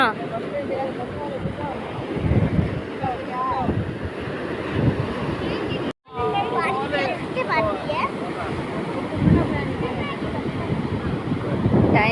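Fast ocean waves break on a beach at dusk, a constant rushing surf with wind buffeting the microphone, while someone talks over it; the sound cuts out briefly midway.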